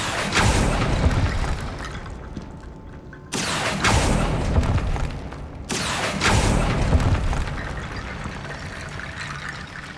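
Heavy magical blasts from the Bombarda spell in Hogwarts Legacy erupt in two or three loud, booming waves, each one rumbling on with a dense, roaring tail and no talk over it.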